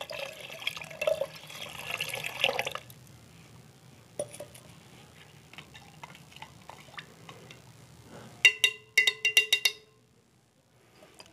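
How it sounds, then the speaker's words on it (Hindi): Clean water being poured into an acid solution during gold recovery from wristwatch parts, a steady liquid pour for about three seconds, then quieter handling, ending in a burst of sharp clinking taps near the close. "अब इसमें हम थोड़ा साफ़ पानी डाल देते हैं ताकि सॉल्यूशन थोड़ा डाइल्यूट हो जाए"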